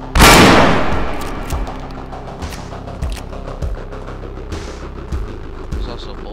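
A single loud, sharp gunshot in the game Receiver rings out up front and decays slowly, followed by faint clicks and knocks of gun handling.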